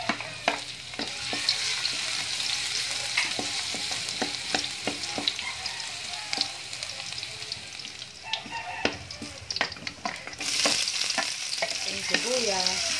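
Garlic frying in cooking oil in a pan, a dense continuous sizzle with quick spatula scrapes and knocks, swelling louder near the end.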